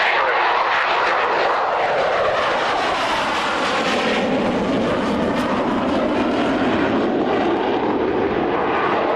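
A jet aircraft makes a low pass at the 1998 Woodford Airshow, a loud, continuous roar that swells and shifts in pitch as it sweeps close overhead and fills the whole clip.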